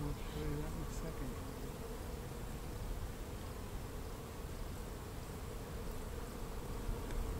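Dense, continuous buzzing of many bees from an opened hive, a steady droning hum that fills the whole stretch, with faint voices now and then.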